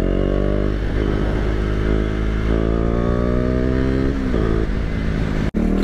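A KTM Duke motorcycle rides along a road, its engine droning loud and close as it revs through rising pitch sweeps with gear changes and a brief cut near the end, no speech.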